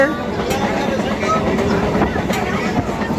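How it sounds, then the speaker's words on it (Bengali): A Digha local MEMU passenger train running, its steady rumble and faint rhythmic rattle heard from inside the coach under a continuous wash of noise, with people talking over it. "এটা হচ্ছে দীঘা মেমো ট্রেন আমরা হাসি মজা করতে করতে যাব বাকি কথাটা দীঘায় গিয়ে হবে মোটামুটি ট্রেন ঠিকঠাকই যাচ্ছে"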